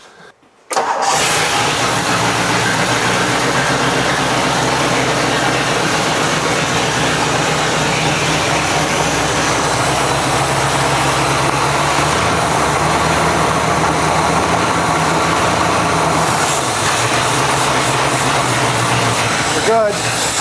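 A long-dormant 1963 Ford Thunderbird engine cranks and catches, then runs steadily at a loud, rough idle close by for most of the clip, with a brief change in tone near the end.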